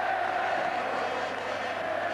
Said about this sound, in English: Tremendous scenes, tremendous appreciation from the crowd